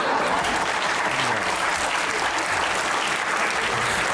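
Steady, dense audience applause from a studio crowd at a comedy show, continuous clapping at an even level throughout with no voices breaking through.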